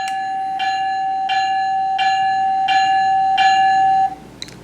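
A model train's bell sound rings brightly, clanging five times at a steady, even pace, each strike sustaining into the next, then it falls quiet, leaving a brief faint chime at the end.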